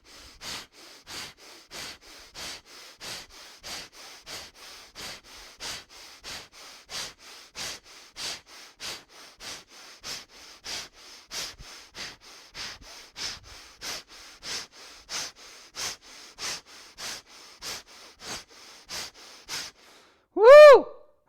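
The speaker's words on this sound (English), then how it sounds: "here's what piston breathing would look like if I was doing it on my own." Rapid piston breathing through the nose: a long, even run of about thirty quick, sharp sniffing breaths, close and moderately loud, ending in one louder exhaled vocal whoop.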